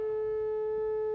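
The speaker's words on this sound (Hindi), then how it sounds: "ये तो शंख की आवाज है।" A conch shell blown in one long, unwavering tone that is bright and strong, rich in overtones and held at a steady pitch from start to finish.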